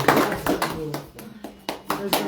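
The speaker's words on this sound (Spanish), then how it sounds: "Palmas." Clapping at a birthday gift-opening party for a pastor, a run of sharp, close hand claps in irregular bursts with voices and children's chatter mixed in.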